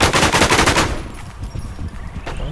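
Rapid automatic gunfire in the survival shooter Infestation, loud bursts of rattling shots in the first second, then sparser distant shots and ambient game noise.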